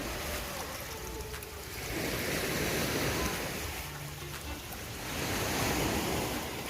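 Sea waves wash in twice at a beach in Calatagan, Batangas, soft, broad surges swelling and receding under steady wind buffeting the microphone, fairly faint and with no voices.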